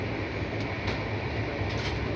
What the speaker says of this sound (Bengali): রাত 11:40 হাওড়া স্টেশন থেকে ট্রেনটা ছেড়েছে।